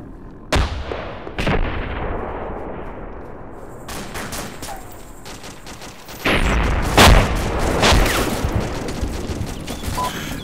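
Mortar and artillery fire in the video game Arma 2, loud booming impacts and sharp shots, a couple of isolated blasts early then a dense volley of repeated gunfire and explosions, no talking.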